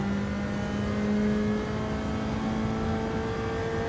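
A Gr.4 race car roars down the back straight at Spa in Gran Turismo 7, a loud, steady, high-revving engine drone with a whining tone that holds constant and close, with no talk over it.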